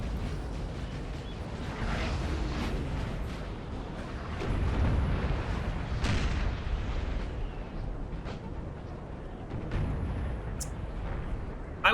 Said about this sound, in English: Now they do have more guns over here, still firing.